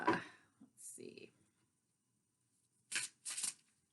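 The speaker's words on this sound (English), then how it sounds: "I've extensively shuffled all of these decks" Tarot card decks being shuffled in short, crisp bursts of riffling and flicking, two quick bursts close together near the end after a couple of softer card sounds, in a quiet room with no talking.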